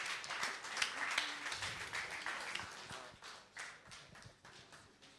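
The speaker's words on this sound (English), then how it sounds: "So a round of applause for him" Scattered clapping from an audience at a DevFest Owerri tech event greets a speaker called to the stage, a fairly faint, uneven patter of hands lasting several seconds with no voices over it.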